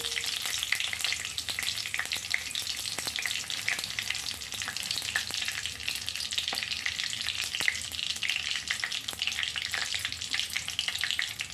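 Steady, crackling sizzle of cumin and fennel seeds frying in hot oil for a tadka, with sharp popping ticks scattered throughout, close and continuous.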